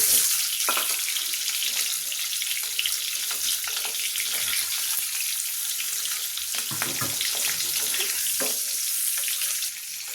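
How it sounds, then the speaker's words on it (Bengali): Halved eggs rubbed with salt sizzle in hot oil in a pan, a steady crackling hiss that continues at an even level with brief louder spatters. "এটাকে আমি শুধু একটু লবণ মাখিয়ে ভেজে নেব"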